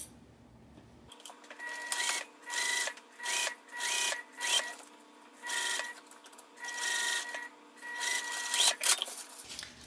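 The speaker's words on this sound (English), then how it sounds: "start sewing with that same seam allowance, back stitching when we start and stop, going all the way across" A sewing machine stitches a seam, back stitching at the start and stop, in a string of short, close whirring runs broken by brief pauses, with no talking.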